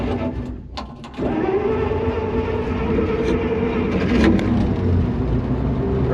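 A Massey Ferguson 82 combine engine cranks and catches after a brief sputter, then settles into a loud, steady rumbling idle that swells slightly as it runs, close by and with no talk over it.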